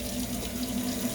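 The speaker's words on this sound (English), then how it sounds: "Let me put the water on." Water runs from a kitchen tap into the sink in a steady, even rush that continues throughout, fairly quiet, with no talk.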